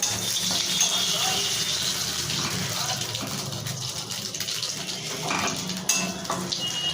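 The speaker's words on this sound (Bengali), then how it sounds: "কড়াইয়ে তেল দিয়েছি, তেল গরম হয়েছে, দুটো শুকনো লঙ্কা দিয়ে দিলাম" Dried red chillies sizzle in hot oil in a wok, a steady close frying hiss running throughout with occasional small clinks, a voice speaking faintly over it.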